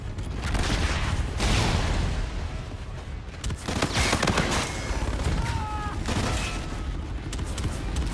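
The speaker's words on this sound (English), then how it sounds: "Shots out." Loud volleys of gunfire ring out in rapid, overlapping bursts with heavy booming reports, while a faint voice comes through beneath the shooting.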